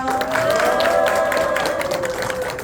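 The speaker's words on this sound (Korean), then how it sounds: "큰 박수로 모셔보겠습니다." An audience welcomes a university lecturer with a burst of applause and some cheering. The crowd claps loudly and steadily, with a tonal hum running underneath.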